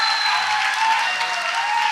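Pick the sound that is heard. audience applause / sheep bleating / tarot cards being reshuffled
audience applause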